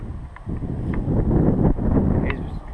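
Wind gusting outdoors in South Australia, buffeting the microphone in a rough, rumbling rush that swells and eases over a few seconds, fairly close and with no voices.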